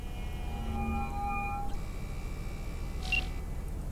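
A phone dials in Cyberpunk 2077: a few short electronic tones and beeps, moderately loud over a low steady hum, followed later by one brief higher bleep; no one talks.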